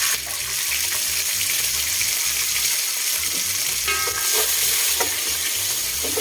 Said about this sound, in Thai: ลาบปลาดับแรกใส่น้ำมันนะครับ นี่น้ำมันมะกอกนะครับ แล้วก็ใส่พริกกระเทียม